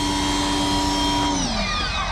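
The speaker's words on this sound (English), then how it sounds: "we'll just pressure clean it" A pressure washer cleaning a car: a loud, steady motorized whine with a high hissing spray, continuous throughout, its pitch dropping slightly near the end.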